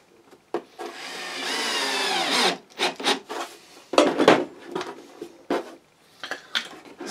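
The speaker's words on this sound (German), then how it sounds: "Und dann schrauben wir das Ganze hier schön fest." Wooden parts of a homemade finger hockey board game are screwed together, heard as a long close grinding rub followed by shorter creaks and scraping twists of screw in wood, with brief pauses between turns.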